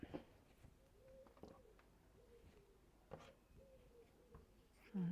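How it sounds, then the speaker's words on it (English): A pigeon coos faintly several times at spaced intervals, low and somewhat distant, under quiet room sounds with light handling noises. "I can hear that pigeon."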